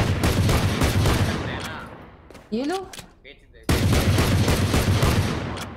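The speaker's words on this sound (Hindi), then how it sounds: "कितना गोलियां आप चला रहे हो" Rapid gunfire in the video game Valorant, dense bursts of shots hammering loudly and continuously, broken by a short pause with chirpy game effects and a brief word of speech before the firing resumes.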